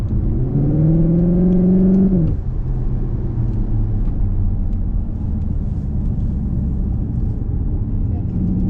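Cupra Formentor car driving through corners, its engine note rising and then dropping off into a steady low rumble and road noise as someone talks over it.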